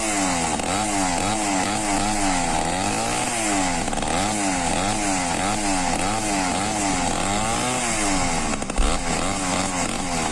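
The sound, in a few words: engine of an old motorized bicycle running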